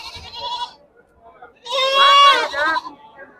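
A goat at a sheep and goat market gives a loud, wavering bleat up close, with a shorter cry just before it.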